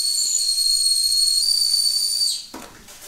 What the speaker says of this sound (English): the kettle whistle is blowing